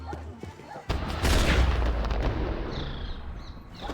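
A firework launched by a character in a video game goes off as a sudden loud boom, then rolls into a sustained rumbling roar that slowly fades over a few seconds.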